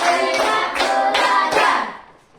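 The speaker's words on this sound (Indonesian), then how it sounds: "Tepuk 5 kali." A fourth-grade elementary school class claps together five times in a steady rhythm. The claps are loud, crisp group strikes in a classroom, and the last one trails off.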